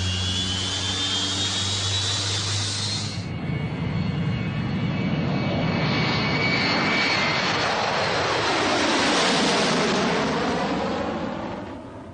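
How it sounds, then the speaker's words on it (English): The jet engines of a new Boeing 757 airliner roar at maximum thrust on the takeoff run. A loud, steady broadband rush swells and then eases as the plane pulls away, with an earlier high whine cutting out, and no speech. "the new 757 starts its takeoff run. The throttles automatically provide maximum thrust"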